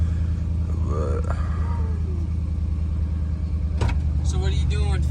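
An SRT Jeep engine idles while warming up, a steady low rumble that stays continuous and close, with people talking over it.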